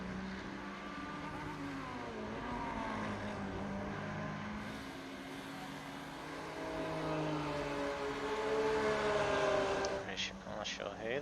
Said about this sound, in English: Listen to that roar from that AMG